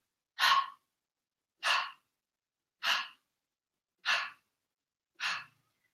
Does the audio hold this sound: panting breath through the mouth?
yes